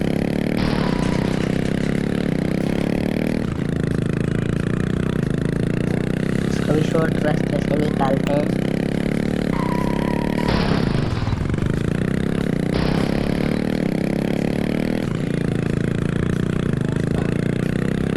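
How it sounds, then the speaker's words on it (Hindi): Royal Enfield motorcycle ridden in the Indian Theft Auto simulator game, a steady mid-pitched engine drone with shifts in revving and some scraping clatter, running continuously under someone talking. "रॉयल एनफील्ड लेके चलते हैं फटाफट से।"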